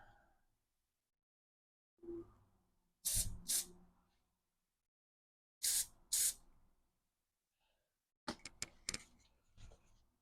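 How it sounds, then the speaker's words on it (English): Spray adhesive from an aerosol can is sprayed onto ribbon ends for a junk journal craft project, in several short hissing bursts, mostly in pairs, with quiet handling noises between them. "Add some spray adhesive to the ends again."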